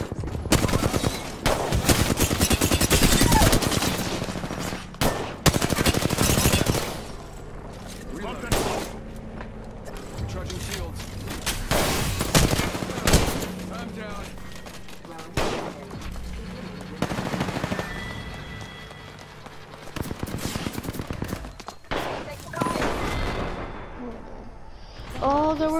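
Rapid automatic gunfire rattles in repeated loud bursts during an Apex Legends match, with weapons chattering in clusters and brief lulls between them, while a player talks over the fighting.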